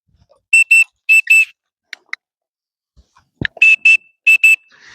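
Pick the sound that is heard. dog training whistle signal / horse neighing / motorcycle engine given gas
dog training whistle signal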